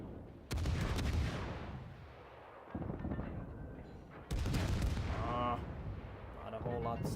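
Cruiser main guns fire heavy salvos in a naval warship video game, with repeated loud booming blasts separated by rumbling lulls as someone talks over the gunfire.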